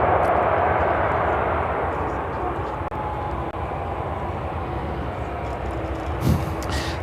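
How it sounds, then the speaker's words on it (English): A Boeing 747-400 freighter spooling up to full takeoff power at Chicago O'Hare, a steady broadband jet roar that fills the whole clip with a brief bump near the end. "Alice Air, flight 8711 heading back to Seoul, and the 747-400 freighter lighting up"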